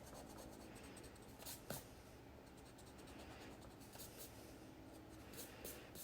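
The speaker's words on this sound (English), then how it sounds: "go ahead and go through and erase any of your pencil lines" Pencil lines being erased from drawing paper, a soft continuous rubbing and scratchy friction close to the microphone with a few brief sharper strokes, quiet throughout.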